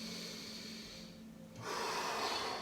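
Deep inhalation during a guided breath work and flexibility session: a soft, steady airy breath, quiet at first, then swelling into a louder, fuller rush of air in the second half, with no talking over it.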